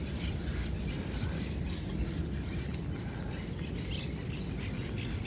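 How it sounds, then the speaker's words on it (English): Wild parakeets call with scattered high, scratchy chirps, fairly faint against continuous broadband outdoor noise near a beach, with no talking. "That's parakeets, that distinctive noise, like little parrots"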